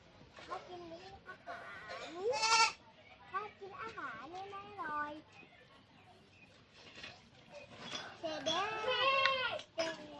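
Goats in a village pen bleat in short, high, wavering calls while they are being fed, mixed with children's and adults' voices talking over them. The calls come and go through the clip at moderate distance.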